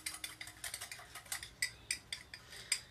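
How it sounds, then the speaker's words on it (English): A small whisk rapidly mixes a teriyaki marinade in a bowl, producing a quick run of light metallic clicks and taps that stay close and fairly quiet with no voices. "My little tiny whisk. And I just mix that all up just like that."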